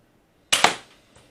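A Nerf Scout MKII blaster fires darts at a wall about ten feet away: a sharp snap followed quickly by a second pop and a short fading rattle, then a faint tap, all close and loud.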